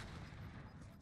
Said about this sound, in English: Go, you're getting sniped.